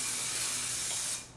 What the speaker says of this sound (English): I'm going to spray it with non-stick cooking spray